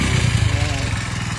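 A normal, unmodified motorbike runs with a steady mid-pitched engine drone and a fast pulsing idle-like chug. The engine is close and moderately loud, and voices murmur in the background.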